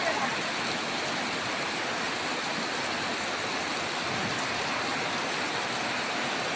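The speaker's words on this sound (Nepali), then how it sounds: "ल हेर्नुहोस् कत्रो पानी परेको" Heavy rain pouring down steadily, a dense continuous hiss that stays loud and even throughout with no distinct drops standing out.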